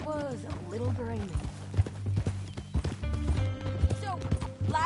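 Horse hooves in the video game Red Dead Redemption 2 clip-clop in a steady rhythmic gait beneath people talking, the hoofbeats continuous and fairly close throughout.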